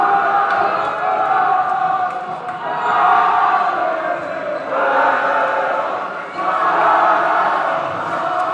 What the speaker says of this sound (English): Little singing break.